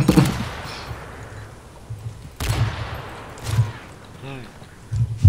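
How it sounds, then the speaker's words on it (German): Gunfire from the shooter game Modern Warfare 3: a few sharp shot bursts with reverb tails, clustered near the start and the middle, while someone talks over the action. "Das ist ein Schuss"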